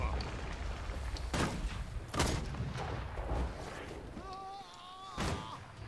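Cannon fire in an MMO video game: several heavy booms and thuds at irregular intervals over steady battle noise, followed by a brief ringing tone near the end.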